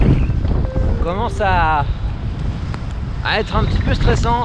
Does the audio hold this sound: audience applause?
no